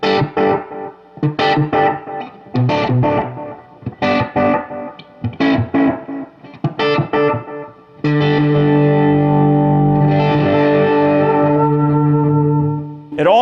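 Vintage Maestro Echoplex EP-3 tape echo with the mix turned up, repeating short choppy guitar stabs before a sustained chord swells into washy, trailing echoes, loud and close with no voices.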